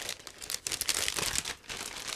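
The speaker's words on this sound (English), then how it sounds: "It's a resealable plastic bag, so it should be quite quick." A resealable plastic bag from an ICM 1/35 model kit is pulled open, giving a close, brief burst of crinkling and rustling plastic with no talk.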